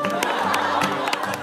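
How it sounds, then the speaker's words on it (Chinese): A brief patter of scattered, reluctant clapping from a small group of TV variety show cast members greeting a guest, mixed with murmurs and voices. "特别违心的鼓掌的"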